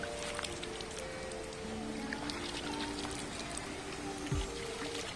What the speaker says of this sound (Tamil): தண்ணியால் லேசாக ஈரமாக்கும்.